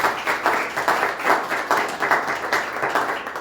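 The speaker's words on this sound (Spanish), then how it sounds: "Pido un aplauso merecidísimo para Luis dos Santos el Cachi" Audience applause at a literary presentation of the novel La última frontera, a moderate crowd clapping in pulsing waves for a few seconds, no voices over it.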